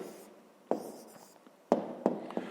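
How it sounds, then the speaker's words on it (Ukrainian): Handwriting with a pen on paper while writing down the answer to a fifth-grade math exercise: several short, crisp scratching strokes come in bursts, close up and soft, with no one speaking. "Пишемо відповідь."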